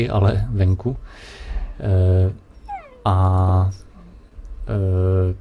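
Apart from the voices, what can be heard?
dogs barking outside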